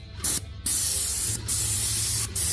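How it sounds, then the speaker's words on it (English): Graco airless spray gun spraying enamel paint in three close, loud hissing bursts separated by brief pauses. "It's a little harder to spray than flat, but this is not my spray gun."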